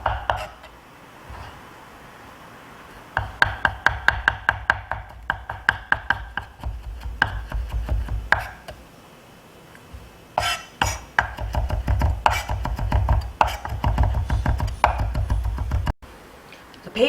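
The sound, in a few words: knife slicing and mincing garlic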